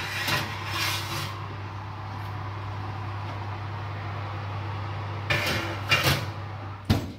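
A baking pan for a banana cake slides into a preheated oven. A few short knocks and scrapes come first, then a pause, then more clunks as the oven door shuts, with a steady low hum underneath.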